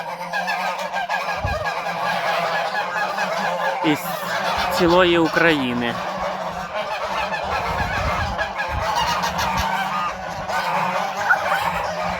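Large flock of domestic geese honking loudly and continuously at close range, with a voice speaking briefly over the din in a farmyard.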